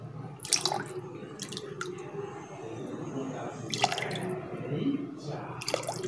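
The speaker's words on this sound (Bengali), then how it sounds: "এবার আমরা কালার জলটা দিয়ে দেবো।" Coloured water pours into a pot of soaking rice for Bengali restaurant-style polao, a steady close splashing and trickling of liquid under a speaking voice.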